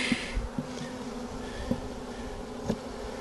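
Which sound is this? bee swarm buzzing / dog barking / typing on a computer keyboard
bee swarm buzzing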